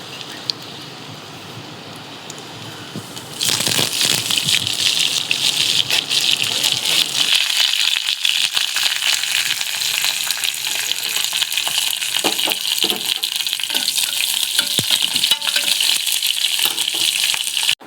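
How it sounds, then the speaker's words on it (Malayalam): Mustard seeds crackle and splutter in hot oil with dried chilies and curry leaves, a sudden burst of loud, dense sizzling and popping that starts after a quiet moment and keeps going steadily. "കുറച്ച് എണ്ണ ചൂടായപ്പോഴത്തേക്ക് അതിൽ കുറച്ച് കടുകിട്ട് പൊട്ടിച്ച് അതിലേക്ക് കുറച്ച് ഉണക്കമുളകും കറിവേപ്പിലയും ചേർത്ത് നമുക്ക് കടുക് താളിക്കാം"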